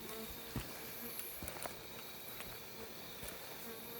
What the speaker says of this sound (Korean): 이 안에도 장수말벌이 들어와 있네요.